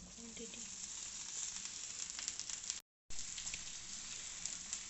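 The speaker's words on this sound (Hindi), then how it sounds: "अब मैं इसमें भिंडी डालूंगी और हम इसको फ्राई करेंगे" Okra, half a kilo of lady fingers, frying in about half a cup of oil in a pan, giving a steady soft sizzle with faint crackles. It is fairly quiet, with a short silent gap partway through.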